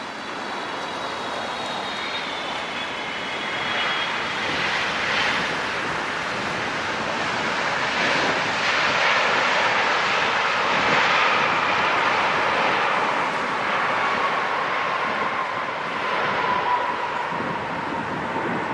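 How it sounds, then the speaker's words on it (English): A Cathay Pacific Boeing 777-300 arriving from Hong Kong lands at LAX, its engine roar a broad, steady rush that swells in the middle and holds without speech. "Next up for landing is Cathay Pacific 777-3 from Hong Kong."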